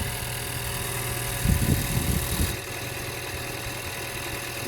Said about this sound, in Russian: Подшипник-то шумит очень сильно.